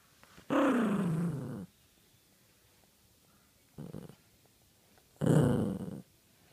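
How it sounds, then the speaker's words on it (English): A dog growls close up in three separate bursts, two long rough rumbling snarls around a shorter one, with quiet pauses between them and no talking. "Vicious dog."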